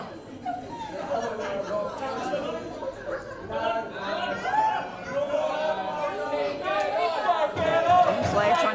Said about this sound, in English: We have some equal chants there from the fans